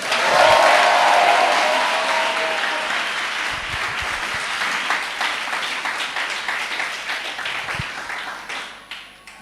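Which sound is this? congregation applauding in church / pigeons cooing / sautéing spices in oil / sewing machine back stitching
congregation applauding in church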